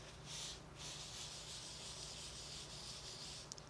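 A tissue rubs quietly over an inked stamp pad, giving a faint, steady scrubbing hiss with no talking.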